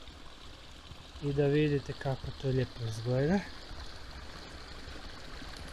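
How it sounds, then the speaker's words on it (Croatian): Babbling mountain stream on Ivanščica near Mrzljak, a steady broadband water rush running throughout, with someone speaking over it in the middle. "Pronašli smo i planinski potok."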